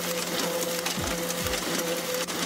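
A running offset printer, used as a sound effect in a radio ad, makes a steady mechanical whir with a constant hum and repeated clicking and thumping strokes.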